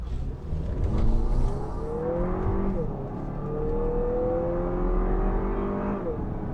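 A 2022 Lexus NX compact luxury SUV with a 2.4-liter turbo four-cylinder pulls hard under acceleration, its steady engine drone climbing in pitch through shifts, sustained and moderately loud from inside the cabin.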